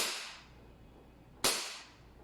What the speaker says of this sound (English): We're going to shoot the targets.